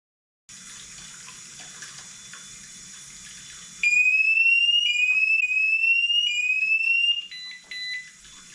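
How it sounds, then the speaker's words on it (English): A flood alarm's water leak detector sounds as tap water runs into a sink. Steady running water plays first, then a loud, shrill warbling electronic beep cuts in near the microphone, repeating in quick rising sweeps before stuttering off. "it's a water level alarm"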